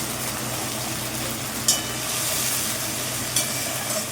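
Ginger-garlic paste hits lightly browned fried onions in a pan and sizzles steadily, with stirring scrapes and two sharper bursts of crackling along the way.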